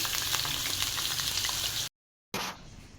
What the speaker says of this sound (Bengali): আলুগুলো ছেড়ে দিলাম আলুগুলো ভাজি মাংসের আলু লাল আলু করে ভেজে নিই